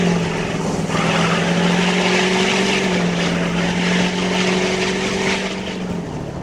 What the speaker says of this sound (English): It's just got that deep guttural sound like a good V8 should, but it just sounds like a big old diesel running